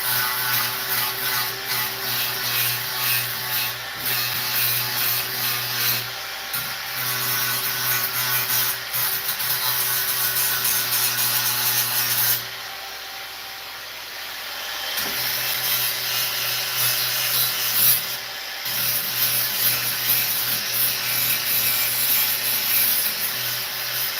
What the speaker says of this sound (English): you can put them right in your grinder